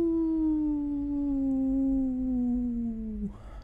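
A person's voice imitates a wolf howl in one long, steady, slowly falling tone that breaks off abruptly near the end, close and fairly loud.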